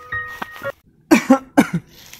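A person coughs in a short Bengali comedy scene: a few harsh, close bursts in two quick clusters, with brief silence between them and no speech.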